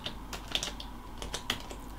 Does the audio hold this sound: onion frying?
no